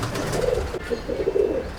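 Inside a pigeon loft, two short bursts of low, warbling coos sound close and fairly loud, with no talking.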